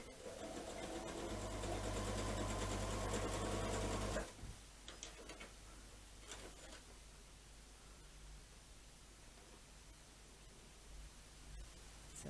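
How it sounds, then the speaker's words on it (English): A sewing machine fitted with a 1/4 inch foot stitches log cabin quilt strips in a quiet room, a steady whirring run of about four seconds that then stops, leaving faint rustling. "sew them all three together using the 1/4 inch foot you've got on"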